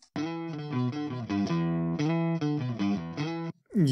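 An electric guitar through the TH3 amp simulator plays a clean tone, sustained chords and rhythmic notes with short gaps, ending in a brief bend.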